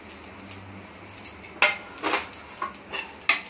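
Grated coconut being dry-roasted and stirred in a pan for a spicy Maharashtrian brinjal dish, with soft scraping and a few sharper clinks of a metal spoon against the pan at irregular intervals.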